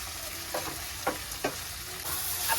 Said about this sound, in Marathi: आपला कांदा टमाटा भाजून झालेला आहे।